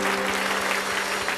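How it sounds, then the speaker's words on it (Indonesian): Church congregation applauding at a sermon gathering, a dense steady wash of clapping with a sustained tone humming underneath throughout. "Kasih tepuk tangan bagi Tuhan."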